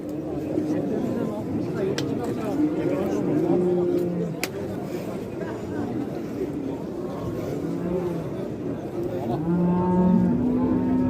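Cattle at the Özgön livestock market moo several times, with drawn-out calls at varying distances over a constant hubbub of crowd chatter and people talking nearby.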